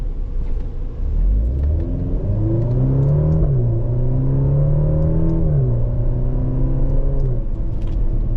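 A 2024 Maserati Grecale GT SUV with a ZF automatic gearbox accelerates hard, its engine climbing in pitch then dropping sharply at each paddle upshift, a loud, steady, near rumble with no talk.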